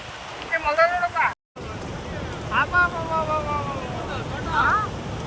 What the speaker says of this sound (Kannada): ಬಸವನಹಳ್ಳಿ ಗ್ರಾಮದಲ್ಲಿ ತುಂಗಾ ಮೇಲ್ದಂಡೆ ಚಾನಲ್ ಹೊಡ್ಕೊಂಡು ಭಾಳ ನೀರು ಬರ್ತಾ ಇದೆ